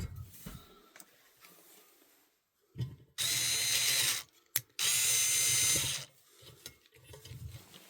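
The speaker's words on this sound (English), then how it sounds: "I'm gonna stick those screws back in there real fast" Screws being driven back by hand into a Kirby Sentria vacuum cleaner during disassembly, heard as two loud ratcheting bursts of a couple of seconds each, separated by a brief pause, with quieter handling clicks before and after.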